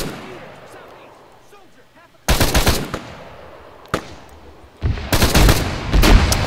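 Video game combat with .50 cal machine gun and grenade fire: two loud sustained bursts of rapid gunfire with a single sharp shot between them, after a quieter stretch of distant rumble.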